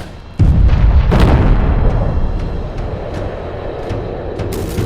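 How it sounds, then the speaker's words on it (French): A violent explosion bursts with a sudden heavy boom, followed by a rumbling roar that slowly decays over several seconds, with a few sharp crackles along the way. "des bruits d'explosion bien violents comme celui-là"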